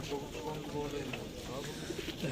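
Pigeons coo at a busy outdoor bird market, soft repeated throaty calls mixed into a dense murmur of crowd chatter and background noise.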